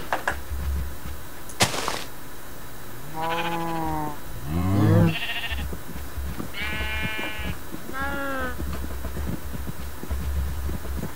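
Sheep bleating in Minecraft Java Edition near a pen, several distinct wavering bleats spaced apart over a low background, with a couple of sharp clicks from block or door sounds.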